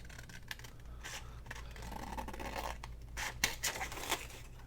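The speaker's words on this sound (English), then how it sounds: "hold your scissors at a little bit of an angle so that it gets that paper cut off" Scissors trimming the edge of washi tape on a paper card, a few short, faint snips and scraping cuts close by, with crisp bursts spaced unevenly and growing sharper toward the end.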